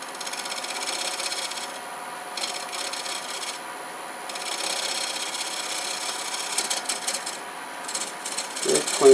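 Bowl gouge cutting a wooden paten spinning on a lathe, a continuous close scraping hiss with a high steady whine, the cutting pulsing on and off in short passes, ending in a louder knock.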